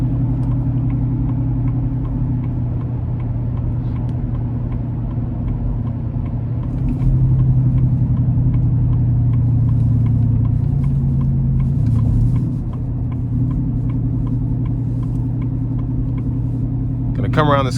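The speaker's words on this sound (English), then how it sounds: "Now we're going to give it a quick pull getting on the interstate here." A Ford F-150 single cab pickup pulling hard onto an interstate, its engine a loud steady drone that swells in the middle and eases off toward the end.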